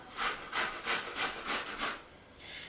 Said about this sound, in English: I'm going to shred this up with my grater here